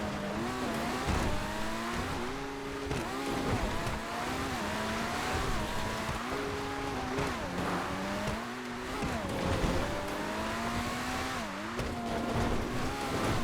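Race car engines in a GTA FiveM racing game roar steadily at high revs, pitch rising and dropping through gear shifts, with brief tire squeals mixed in over a continuous loud drone and no talking.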